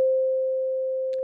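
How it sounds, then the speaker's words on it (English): A single pure sine tone holds steady for about a second, clean and smooth, with a faint click near the end. "That's just a sine wave."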